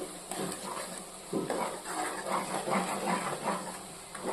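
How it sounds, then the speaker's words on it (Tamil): Kashmiri chilli being sautéed in oil for a chicken leg piece curry, a soft sizzle under repeated spoon scrapes and stirring clatter against the pan, no speech. "நம்ம சேர்த்துக்கிட்ட காஷ்மீரி மிளகாயை நல்லா எண்ணெயில் வதக்கிடுவோம்."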